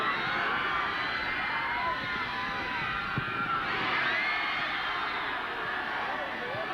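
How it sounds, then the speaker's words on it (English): A crowd cheers and shouts steadily at a high school sports match between SPF and Westfield, a broad, continuous roar of voices with no single standout. "the crowd has come alive"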